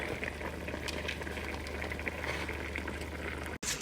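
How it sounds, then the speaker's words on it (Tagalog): Pot of onions and garlic coming to a boil, a steady close bubbling simmer with faint crackles, continuous and without talk. "Ayan, at nakulo na nga siya."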